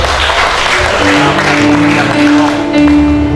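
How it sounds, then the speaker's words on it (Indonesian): Guests at a wedding clap in a loud, sustained burst, with musical tones and some voices mixed underneath. "kasih tepuk tangan untuk"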